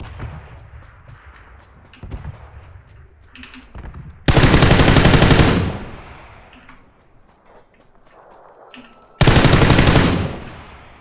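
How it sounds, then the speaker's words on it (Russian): Automatic gunfire in PUBG (PlayerUnknown's Battlegrounds), with two loud sustained bursts of rapid shots, each lasting over a second, standing out against quieter scattered distant shots and game ambience. "По кому бот стреляет?"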